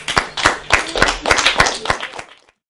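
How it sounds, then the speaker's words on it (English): Students clap together after a classroom group-work session, a short burst of distinct, fairly loud hand claps from a small group in a quick uneven rhythm that thins out and stops abruptly after about two and a half seconds. "Give yourselves a round of applause."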